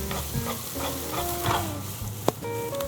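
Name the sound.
stir-frying green onion, garlic and ginger in hot oil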